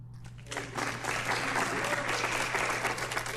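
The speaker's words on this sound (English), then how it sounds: "Applause." Applause swells up in a presidential debate hall in Cleveland, a wide, even wash of many clapping hands that rises after a brief quiet start and holds steady over a constant low hum.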